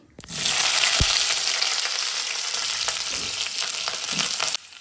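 Cumin and mustard seeds sizzle in hot oil, a loud, steady crackling fry close by that starts abruptly and holds, with scattered pops and a brief stir, then cuts off near the end.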